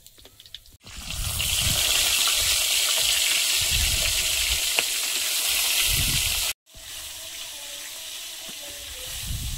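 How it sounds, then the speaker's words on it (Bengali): Koi fish fry in hot oil, giving a loud, steady sizzle close by. It drops out briefly near the end, then resumes a little quieter. "কই মাছগুলো ভাজা হয়েছে, খুব বেশি কড়া করে ভাজবো না, তুলে নেব।"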